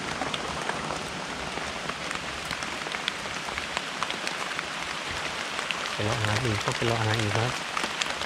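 Steady rain patters on foliage and ground in a rural woodland while mushrooms are picked, a dense unbroken wash throughout, with someone talking briefly near the end.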